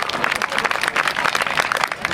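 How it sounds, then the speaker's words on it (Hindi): Audience at a Hindi stand-up comedy show claps loudly after a comic devotional song, brisk uneven clapping from a nearby crowd with some murmured voices underneath. "ताली बजाओ एक बार जोरदार।"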